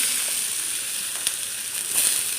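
Chopped onion, green chili and curry leaves sizzle and fry in hot oil in a pan, a steady close hiss with faint crackles and no voices.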